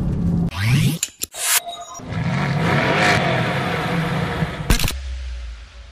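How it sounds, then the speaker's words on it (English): A 2016 Mercedes-AMG GT S with its 4-liter V8 revs loudly and close, sharp blips early on giving way to a sustained roaring pull, then a brief burst near the end before settling to a low idle rumble. "Anyone who thought a 4-liter V8 was going to sound bad in the new line of AMGs, you're wrong."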